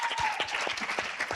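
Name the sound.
applause at town hall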